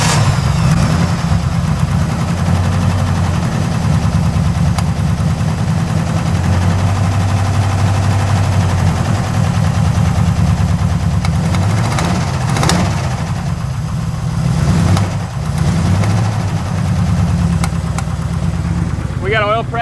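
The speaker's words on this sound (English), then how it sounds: "This fine motor vehicle from Detroit will now start." A 1968 Chevrolet Camaro engine turns over and settles into a loud, rough, lumpy idle that runs steadily throughout, close up, with a few sharp pops and people talking faintly over it.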